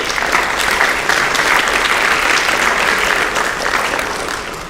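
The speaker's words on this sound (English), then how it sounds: "just one more round of applause" A high school athletic awards audience in an auditorium gives an award winner sustained, even applause, a dense wash of many hands clapping that holds steady before easing slightly at the end.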